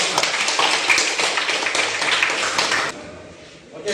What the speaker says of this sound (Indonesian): Ya, tepuk tangan dulu Kang untuk kelompok 4.